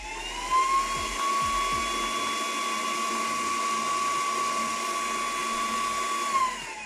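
A steady high-pitched whirring hum of a bidet toilet seat's air dryer runs continuously, with a few faint clicks at the start.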